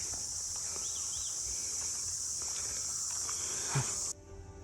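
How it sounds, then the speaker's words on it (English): Crickets chirp in a steady, continuous high trill beside hills and jungle on the Brahmagiri trek near Trimbak, Maharashtra, holding constant at moderate level before cutting off abruptly near the end. "You can hear the sound of crickets."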